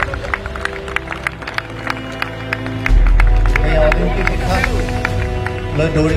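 Applause for runners at an inter-college athletics meet at Gogamukh College, a crowd clapping loudly and steadily in the open air, building midway and carrying on under an announcer's voice.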